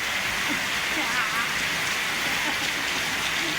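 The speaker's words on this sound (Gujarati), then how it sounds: "વરસાદ ચાલુ થઈ ગયો જોરદાર" Heavy rain pours down steadily, a dense, even hiss of water striking surfaces close by with no letup.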